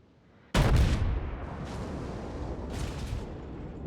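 Heavy naval gunfire in World of Warships aimed at the battleship USS Texas: a sudden loud booming salvo, then a sustained rumble with further distant shell blasts rolling in, no talk.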